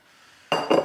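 A bowl handled in a home kitchen gives two quick, close ceramic clinks and scrapes in a row after a near-silent moment, with no voice over them.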